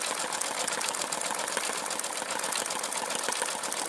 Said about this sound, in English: So the more dense the stitch, the slower the machine will go.